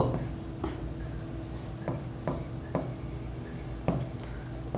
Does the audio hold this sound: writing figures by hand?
yes